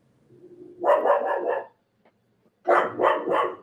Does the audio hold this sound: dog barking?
yes